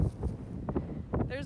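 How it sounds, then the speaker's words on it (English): Outdoors beside a large farm tractor and planter rig, wind gusts buffet the microphone in rough, uneven rushes while a person talks close by. "Sorry, it's so windy."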